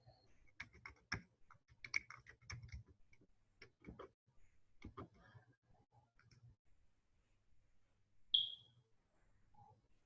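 Keys on a computer keyboard tap in irregular bursts while a web connection is being set up in Dreamweaver, the clicks close and fairly quiet, with a brief electronic beep near the end.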